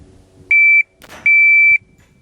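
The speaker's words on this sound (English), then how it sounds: "the first beep is the fire, and the second beep is the termination of fire" Two loud, steady electronic beeps, the first short and the second longer, separated by a brief burst of noise, with nothing else audible.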